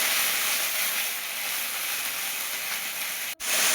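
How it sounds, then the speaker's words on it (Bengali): Ginger paste and panch phoron spices frying in hot oil, giving a steady close sizzling hiss that runs unbroken except for one brief dip near the end. "আবারও তেল গরম করে পাঁচফোড়ন দিয়ে আদা বাটাটা দিয়ে দিল।"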